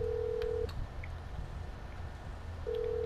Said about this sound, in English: And if I pull out my phone, Lester.